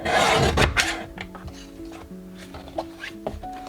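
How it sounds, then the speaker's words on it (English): Sheets of 85-pound cardstock scraped and sliced on a paper trimmer, giving close, soft rubbing and dry rasping strokes with small clicks, while faint background music plays underneath. "trim just a regular piece of 85-pound cardstock down to 5 inches"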